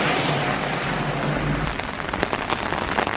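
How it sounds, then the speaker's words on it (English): Steady rain patters on an umbrella on a street in Soho, London, a dense close hiss with scattered sharper drops tapping on the canopy and no talk. "You get the sound of the rain on your umbrella."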